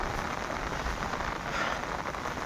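Rain falls steadily in fog, a close, even patter of drops striking surfaces at moderate loudness without pause, with no voices.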